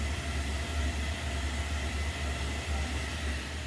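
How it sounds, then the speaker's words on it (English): A train passes by outside, a steady low rumble with a broad hiss of wheels and rail noise that holds at moderate loudness throughout, with no voices. "Train."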